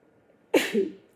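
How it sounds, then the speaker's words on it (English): A single sharp sneeze, close and sudden, after a moment of near silence. "I think I'm gonna sneeze."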